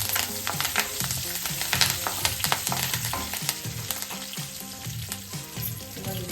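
Curry leaves crackle and sizzle loudly as they hit hot oil in a pan for a Karnataka-style beans palya, a dense steady spitting with sharp pops throughout and no voices.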